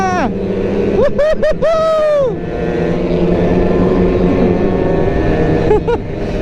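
Raider motorcycles at a take-off drag racing event, engines revving hard in rising and falling bursts with sharp upshifts, loud and close, over steady crowd noise and talk.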